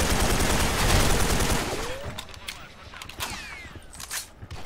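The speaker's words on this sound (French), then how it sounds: "Mais le mieux c'est le FAMAS quoi. Avec ses rafales de 3." Gunfire from a FAMAS rifle in a video game rings out in dense bursts, loud at first and then thinning into scattered shots with brief voices mixed in.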